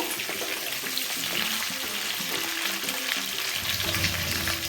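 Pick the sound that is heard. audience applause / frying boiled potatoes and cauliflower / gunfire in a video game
frying boiled potatoes and cauliflower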